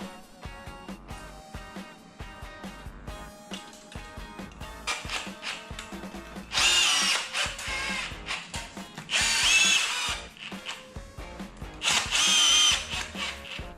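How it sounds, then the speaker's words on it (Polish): A power drill whines in short bursts, driving in screws to fix a light fitting's mounting bracket, with louder high-pitched spurts near the end as the bit bites in. "przykręcam element montażowy"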